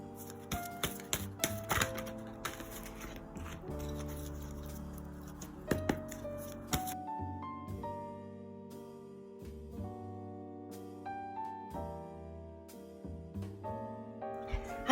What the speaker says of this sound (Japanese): はい、それではシャッフルしていきます。